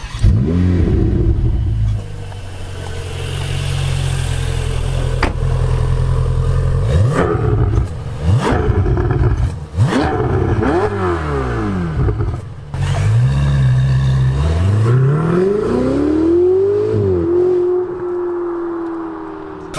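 A 2017 Ferrari 488 GTB sports car engine, loud and close, holding a deep idle before sharp revs that climb and fall in repeated sweeps.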